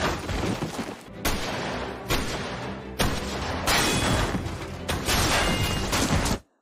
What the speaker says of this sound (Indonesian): Dengan metode itu, dia terus melepaskan tembakan